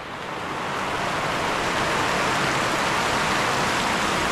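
Heavy typhoon rain pours down in a dense, unbroken hiss that swells within the first second and then holds loud and steady, with no voices.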